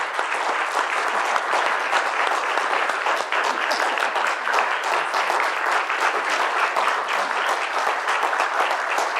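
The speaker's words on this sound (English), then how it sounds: "please give a round of applause for Professor Templeton." Sustained applause from a lecture audience greeting a professor, dense steady clapping from many hands at an even level throughout, with no break.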